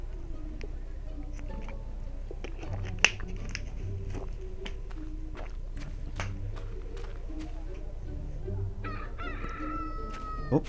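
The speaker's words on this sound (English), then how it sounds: "A lot of chickens." Chickens cluck and a rooster crows in the video game Fable Anniversary, scattered short calls over a low steady background hum, with a sharp snap early on and higher bird calls near the end.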